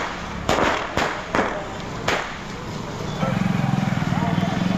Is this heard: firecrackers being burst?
yes